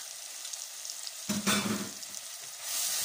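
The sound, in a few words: stirring seasoning spices in a frying pan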